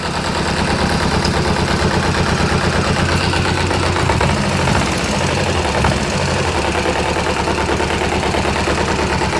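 Kawasaki ZZR250 motorcycle engine idling steadily at close range after clutch work with stiffer springs, a loud continuous rapid throbbing tick-over with no talking.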